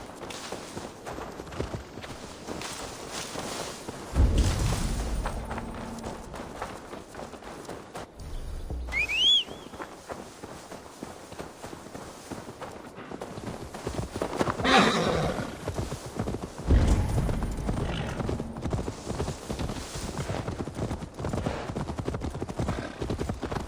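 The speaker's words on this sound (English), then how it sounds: "Now to deliver Magni his horse." Horse hooves clop rhythmically in the video game Assassin's Creed Valhalla, along with footsteps and rustling, broken by a whistle and a horse's whinny partway through.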